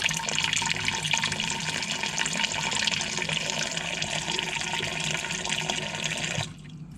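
Water running steadily over sprouts in a Euro Tray sprouter during a rinse, a loud unbroken rushing splash that cuts off abruptly near the end.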